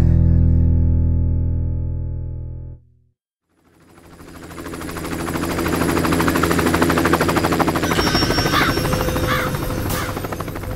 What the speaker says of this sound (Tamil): இந்த ஊருக்கு ஏற ஹெலிகாப்டர்ல வருது.